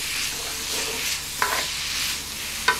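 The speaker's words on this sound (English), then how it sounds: "Now we stir that around." Chipotle chicken chili ingredients sizzling steadily in a hot pan while being stirred, a continuous close fry hiss with two sharp scrapes of the utensil against the pan.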